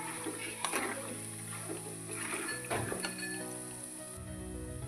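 Dry coconut hitting a sizzling pan for North Karnataka-style paper poha: a soft, steady frying hiss with a few clinks of a utensil against the pan, fairly quiet and close.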